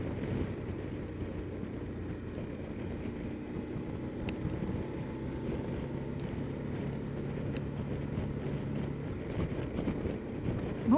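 Strong wind blasts across a rider on a KTM 1290 Adventure S motorcycle, a steady, loud broadband roar of wind buffeting mixed with low engine and road rumble, continuous throughout.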